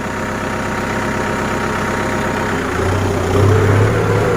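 A Kubota M6240SU tractor's diesel engine runs steadily near at hand, then rises in pitch and load as it is put into gear.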